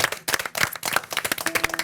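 An audience at a werewolf party game, zombie edition, applauds the game master with brisk, close clapping from several people, irregular and lively throughout.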